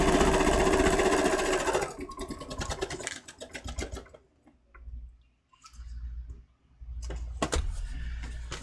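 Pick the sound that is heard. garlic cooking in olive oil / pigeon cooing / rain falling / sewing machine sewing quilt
sewing machine sewing quilt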